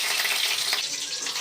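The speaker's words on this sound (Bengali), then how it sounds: "আমি সরষের তেল দিয়ে ভাজছি" Food frying in hot mustard oil, a steady, close crackling sizzle that holds evenly throughout with no pauses and no voices.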